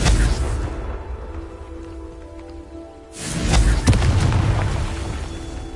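A fiery Confringo spell blast in Hogwarts Legacy, a broad crackling burst with a dense rushing, rain-like hiss that fades, then a second loud boom strikes and its crackle lingers.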